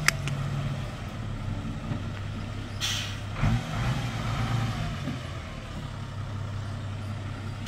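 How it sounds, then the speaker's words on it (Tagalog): Dump truck loaded with cement for concreting work, its diesel engine rumbling steadily, with a sharp hiss of air brakes and a burst of louder engine noise. "yung isang dump truck na kargado ng simento"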